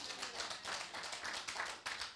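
A church conference audience claps steadily, a dense patter of applause that stays fairly soft and even throughout.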